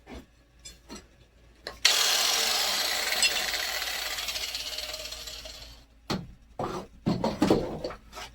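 An angle grinder cleans steel in preparation for welding, a loud continuous abrasive grinding that runs for about four seconds, fades slightly, then gives way to several short scraping bursts.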